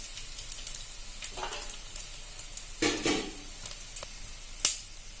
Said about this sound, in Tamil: வடகம் பொரியுது பாருங்க.